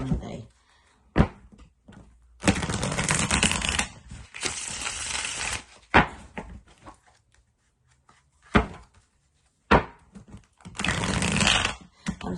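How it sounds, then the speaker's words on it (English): Tarot cards being shuffled in several quick riffling bursts, each a loud papery flutter, separated by short pauses with faint taps and handling noises. "I'm just shuffling."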